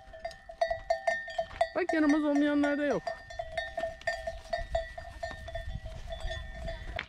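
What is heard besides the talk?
goats with bells hung on their necks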